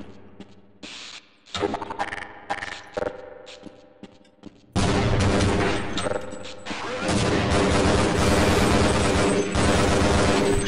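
A gunfire exchange in the video game Half-Life: Blue Shift, with scattered sharp shots at first, then a dense, loud, continuous barrage of overlapping gunfire and impacts filling the rest of the stretch.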